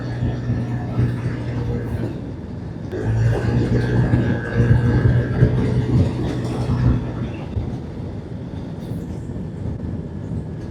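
A motorbike rolls over railway tracks at night with a steady engine drone and road rumble, a brief bump and rattle as the tracks are crossed, and faint voices in the background.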